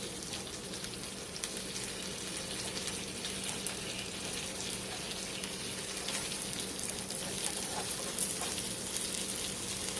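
Butter melting in a pan while making a spinach artichoke grilled cheese, a soft, steady crackling sizzle with fine popping, continuous and fairly quiet throughout.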